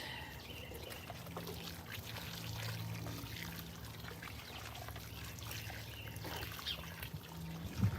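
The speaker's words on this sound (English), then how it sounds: "here's our can of water," Water poured from a watering can onto a soursop plant in a container, a soft continuous trickle and splash heard close up over low background hum, with no talking.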